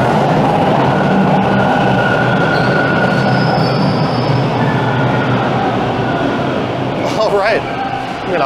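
Toronto subway train running at night, a loud steady rumble of wheels and carriage noise throughout with wheel squeal rising near the end, voices faintly mixed in.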